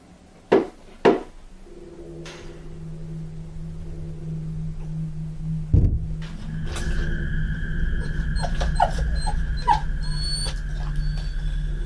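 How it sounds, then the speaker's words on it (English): Dogs whimper and squeal, with a few sharp bursts early on, then sustained high whining tones and a thin, faint drone lingering in the quiet background. "Look at the dogs."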